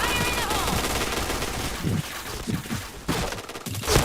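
Rapid automatic gunfire in the Point Blank shooter game, coming in dense bursts with short pauses between them and occasional heavier shots, loud and close, with faint voices mixed in.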